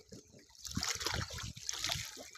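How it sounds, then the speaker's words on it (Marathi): Rushing, splashing river water pours over a weir, filling the clip as a steady broadband wash, with someone talking over it intermittently. "बघा किती पाणी आहे बघा नदीला आमच्या."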